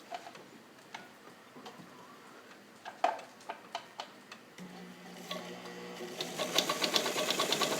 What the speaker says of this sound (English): I'm going to start for you guys with a straight stitch, and I'm going to be sewing sort of a medium weight almost like a drapery weight.